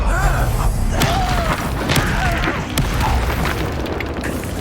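The Incendio fire spell in Hogwarts Legacy goes off as a dense, booming blast that rumbles loudly through the whole clip, with combat noise layered over it.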